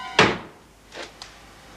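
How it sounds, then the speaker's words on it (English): A door is shut with one sharp thud, followed by two fainter knocks or rattles in a quiet room, in a Hammer House of Horror episode. "Close the door."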